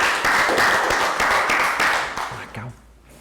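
Children clap for a classmate during a Year 3 health education lesson on movement and fitness: a short burst of brisk clapping that fades out near the end, with a voice talking briefly as it dies away.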